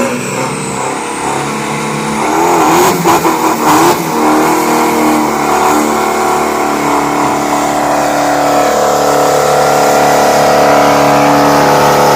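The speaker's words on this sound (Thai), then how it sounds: "ไล่รอบครับ" A turbocharged 2500cc Chevrolet drag car engine revs hard and loud up close, the pitch climbing and holding high with a steady roaring tone and brief sputters early on, with no voices over it.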